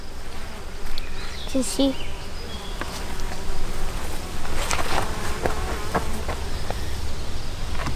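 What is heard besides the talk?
bees buzzing at an opened hive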